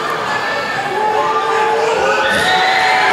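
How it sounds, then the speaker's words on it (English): Rodeo crowd uproar for a bull rider, a loud, swelling roar of cheering and shouting that builds and holds throughout. "you hear the huge uproar for Nathan Banner"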